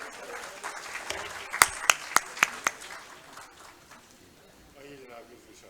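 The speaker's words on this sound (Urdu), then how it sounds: "آپ ان کو بھرپور داد بھی دیجیے آپ کی تالیوں کی" An audience at an Urdu poetry mushaira gives a short burst of about five sharp, evenly spaced claps that fade quickly, set against a soft murmur of voices in the hall.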